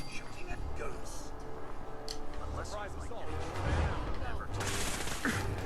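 Gunfire in the Fallout 4 video game comes as bursts of shots and impacts mixed with game noise, fairly close, and a voice talks over part of it.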